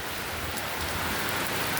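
Rain pours on a rainy day as a dense, constant hiss, close and even from start to finish with no voices.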